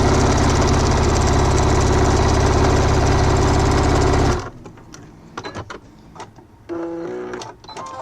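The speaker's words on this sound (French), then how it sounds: "on fait la deuxième couture de l'autre côté" A sewing machine stitches the second seam of a fabric wallet in a fast, loud, steady mechanical whir that stops abruptly about halfway, followed by quieter handling noises and faint rustling.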